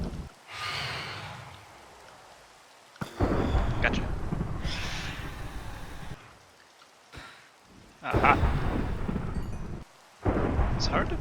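Rain and thunder in a Minecraft world, a steady hiss of rainfall broken by several loud rumbling thunder bursts, with a voice making brief exclamations between them.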